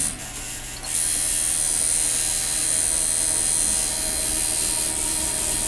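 A Ground Zero Bullwhip Infinity tattoo machine switches on after a short pause and runs with a steady, loud, high electric buzz and hum until the end, with no talk.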